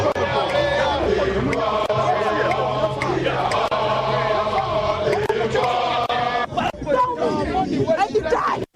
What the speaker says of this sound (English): the crowd becomes agitated, demanding the removal of barricades so they can demonstrate in front of the Jubilee House